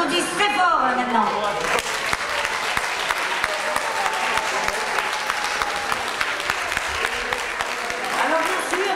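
A neighbourhood crowd claps loudly and continuously, a dense, sustained burst of applause with scattered voices and cheers rising over it.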